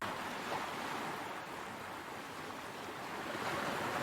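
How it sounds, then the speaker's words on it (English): Water splashing against the hull of a boat as a ship ambience sound effect: a continuous broad rushing wash of surf-like water with gentle swells in level and no voices. "I also have this one, which is for the water that's like splashing against the boat"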